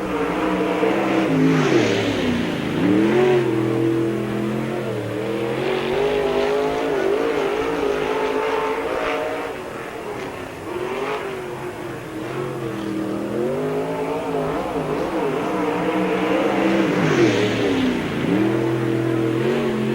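A race car, car number 10 on a qualifying lap at Spoon River Speedway, roars steadily and loud, its engine note rising and falling as it revs through the turns. Faint tire squeal is heard, and no one speaks.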